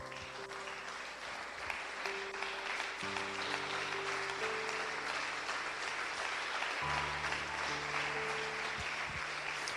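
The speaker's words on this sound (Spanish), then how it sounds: "Póngase de pie y dele el mejor aplauso al Señor Jesús" A church congregation breaks into sustained, steady applause for Jesus, many hands clapping together under sustained organ or keyboard chords, with faint voices mixed in.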